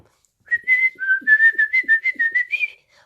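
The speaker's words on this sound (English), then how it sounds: "whistle" A clear whistled tune, alone in quiet: a rising note followed by a quick series of about eight short, evenly paced whistled notes, loud and close.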